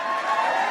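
Crowd cheering and clapping at a President Biden campaign rally in New Mexico, a brief steady wash of audience noise with no talk over it.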